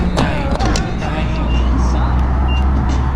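An Audi A4 with a 2.0T engine running after a carbon canister replacement, a loud, steady engine rumble close to the microphone with a few brief knocks and voices over it.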